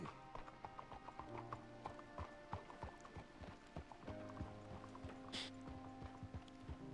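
An old horse's hooves clip-clop steadily in Red Dead Redemption 2, a quiet, even rhythm of hoofbeats over a low ambient game soundtrack with sustained tones, and a brief whinny-like burst midway.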